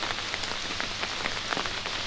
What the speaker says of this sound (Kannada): ಭಾರಿ ಮಳೆ ಆಗ್ತಾ ಇದೆ ಬೆಳಗಾವಿಯ ಪಶ್ಚಿಮ ಘಟ್ಟಗಳ ಪ್ರದೇಶದಲ್ಲಿ